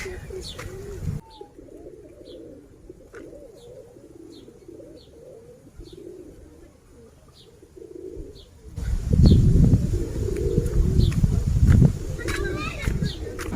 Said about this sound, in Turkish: Kumrular, güvercinler.